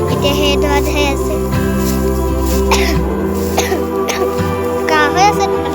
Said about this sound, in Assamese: কাহ হৈ আছে